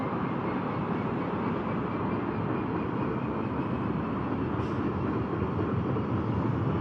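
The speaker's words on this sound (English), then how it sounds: "I have to wait for that train to clear platform 7" A train rumbles past steadily in the Train Simulator Classic game on the Trent Valley line near platform 7, a broad, loud, continuous roar that holds for several seconds with no talk.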